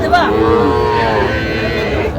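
A young Sahiwal bull calf, about four months old, on a farm in Chandpur gives one loud, drawn-out moo close by, lasting around two seconds.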